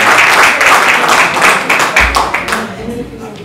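Audience applause after a presentation at a summer-school debate on educational quality, a dense, steady wash of clapping that gradually thins out toward the end, with low voices and murmuring underneath.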